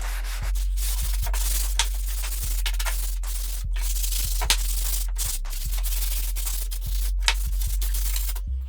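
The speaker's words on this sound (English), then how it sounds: "I'm going to give each one of them a light hand sanding with a 120 grit block" Hand sanding of wooden frame pieces with a 120 grit sanding block, a steady close scratchy rubbing with repeated strokes and brief pauses, continuous through the clip with no talk.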